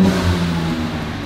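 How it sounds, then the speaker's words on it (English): A car engine with an aFe aftermarket exhaust idles and revs with a deep, throaty exhaust rumble, steady and fairly loud, no voices. "This vehicle also has a AFE exhaust on it."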